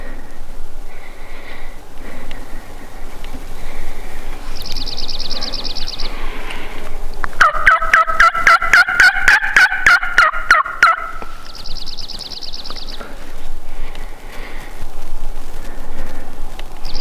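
Wild turkey tom gobbling outdoors on the opening day of hunting season, one loud rattling gobble lasting a few seconds at middle distance, with faint songbird chirps before and after and wind noise throughout.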